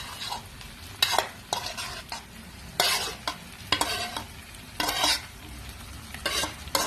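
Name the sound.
meat, tomato paste, spices, carrot, onion, bell pepper stirred while frying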